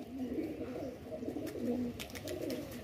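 Soft, low pigeon coos repeat a few times over faint background noise, fairly close, with a few light clicks and rustles.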